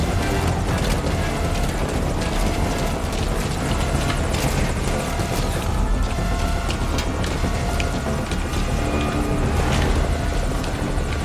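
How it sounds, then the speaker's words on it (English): A helicopter arriving in a video game, its dense rotor thrum constant and loud throughout, close overhead with no talk. "calling in the chopper to your position now"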